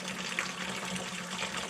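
Hard cider runs through a racking hose with a faint, steady liquid rush and trickle, continuous and unbroken for the whole short stretch.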